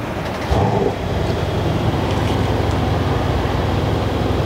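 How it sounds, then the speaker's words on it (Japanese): A 2017 Mercedes-AMG C63 station wagon's 4.0-litre direct-injection twin-turbo V8 fires up with a sudden loud surge, then settles into a deep, steady rumbling idle heard close by. "じゃあちょっとエンジンをかけてみます。"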